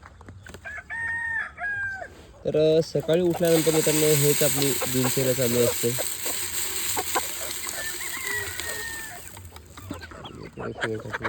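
Desi (gavran) chickens on a poultry farm cluck and call in a busy, close burst, with a rooster-like crow rising in the middle, while someone talks over the flock.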